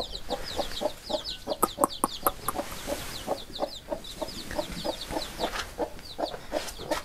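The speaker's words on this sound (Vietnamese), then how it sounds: "mấy con gà về kiếm ăn này" Chickens forage on a foggy farmyard morning with a few chicks, giving a steady stream of close, overlapping clucks and short calls, with higher peeps scattered throughout.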